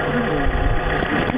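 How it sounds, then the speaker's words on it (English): A used car's engine is revved in a short burst, a rough, close mechanical roar rising and falling over about a second and a half. "Now when you rev an engine..."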